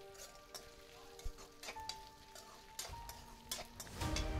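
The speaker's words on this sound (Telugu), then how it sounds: "కట్ చేసిన ఆలు ముక్కల్ని ఇందులో వేసి కలుపుకోవాలి." Large potato pieces frying in a pan give a soft crackling sizzle, with sharp clicks and scrapes as they are stirred, rising to louder frying near the end.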